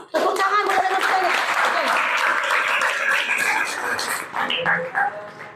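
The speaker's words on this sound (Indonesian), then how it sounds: "Tepuk tangan buat anak saya." Applause from a school classroom for students after a group presentation, dense and steady clapping filling nearly the whole stretch before thinning into a few scattered claps at the end.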